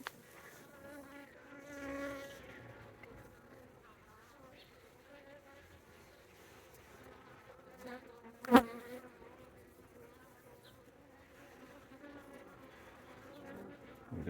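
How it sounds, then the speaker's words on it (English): Honey bees hum and buzz faintly around a hive entrance, with one brief loud buzz as a bee passes close, amid quiet outdoor background. "We've got some bees coming in heavy, it looks like."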